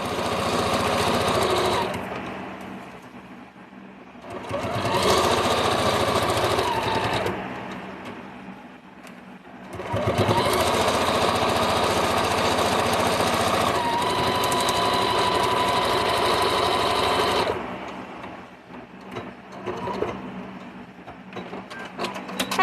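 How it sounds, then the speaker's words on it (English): A sewing machine stitches a quilt block in long loud bursts of rapid whirring, pausing briefly between runs, with short back-stitch passes close up and no talking. "I'm just doing like one little back stitch, since this isn't getting put all together right now."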